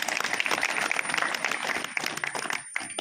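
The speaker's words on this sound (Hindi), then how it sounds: "आप स्वतः इतने समझदार हैं कि बिना कहे तालियों की गड़गड़ाहट आपने दे दी।" A crowd at a memorial gathering of former soldiers breaks into sustained, dense applause, a continuous roar of many hands clapping for about three seconds without speech.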